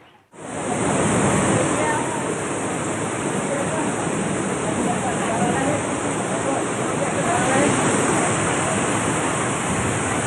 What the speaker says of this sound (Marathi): तब्बल 4 तास मुसळधार पाऊस झाल्यानं जळगावात पूरस्थिती निर्माण झाली होती